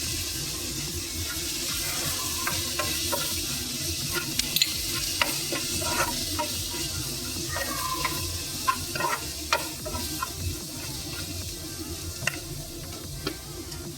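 Sambar powder, chilli powder and turmeric sizzle steadily in hot oil in a pan while being stirred, with scraping and clinking of the spoon over a constant frying hiss, close by.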